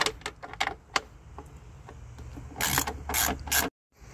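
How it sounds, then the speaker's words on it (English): Wrench turning the two 10mm nuts off the engine dust cover of a 2018 Ford F150 2.7 EcoBoost, with a few sharp metallic clicks at first, then two louder bursts of rapid ratcheting near the end. "It's going to be two 10mm nuts, one here and one here. So you go ahead and unscrew those."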